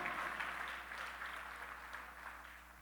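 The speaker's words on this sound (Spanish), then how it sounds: "Denle un aplauso si usted está entendiendo, amado." A church congregation at a Festival of Trumpets service applauds in a soft, distant wash of clapping that stays even and gradually fades, with no voices on top.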